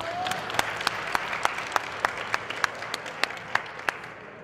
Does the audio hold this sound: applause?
yes